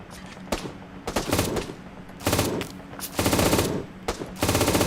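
An MG3 machine gun fires in a video game, rattling off several loud rapid bursts separated by short pauses, close and dominant with no talk over it.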